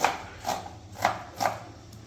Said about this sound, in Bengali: মোমোর জন্য কিন্তু বাঁধাকপি কেটে নেওয়া হচ্ছে কুচি কুচি করে